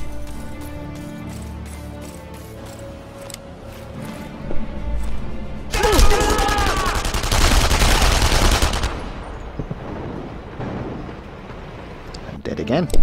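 Enemy gunfire in the video game Enemy Front: a loud, dense burst of rapid shots fills the middle of the clip, with sparser single shots before and after.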